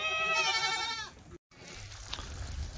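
A Kathiawadi goat, a buck, lets out one loud wavering bleat close by, lasting about a second. Quieter farm background noise and low murmuring follow after a short gap.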